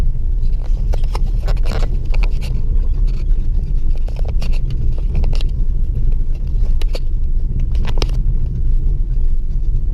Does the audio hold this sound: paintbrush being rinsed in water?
no